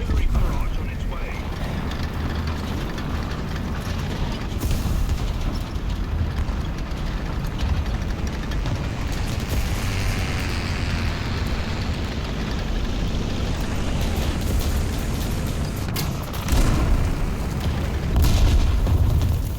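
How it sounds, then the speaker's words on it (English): Artillery barrage in a World War II tank game featuring a Churchill AVRE: a dense, continuous rumble of booming explosions and mechanical clatter, loud and sustained, with voices talking over the din. "Artillery barrage on its way."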